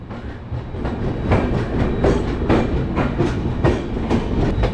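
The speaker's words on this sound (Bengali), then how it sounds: "একদম রাইট টাইমে আমাদের ট্রেন কলকাতার চিতপুর থেকে ছেড়ে দিল" The Jammu Tawi Express departs Kolkata Chitpur station, with a steady rumble and a repeating clickety-clack of wheels over rail joints, loud and close, with no voices.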